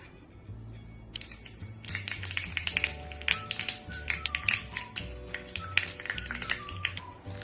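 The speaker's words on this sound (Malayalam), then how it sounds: "എണ്ണ ചുട വരുമ്പോൾ കടുകും ഉലുവയും പൊട്ടിക്കണം" Rapid sharp pops and crackles as mustard and fenugreek seeds splutter in hot coconut oil, a busy irregular patter growing denser, close by.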